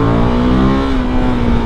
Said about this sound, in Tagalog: Iba yung galit ng makina nito.